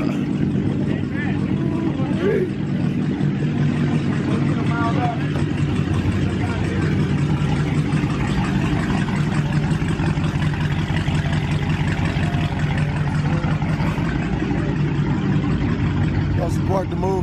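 Loud car engine rumbling and revving on a neighborhood street, a steady heavy drone with small surges throughout, people talking and shouting over it.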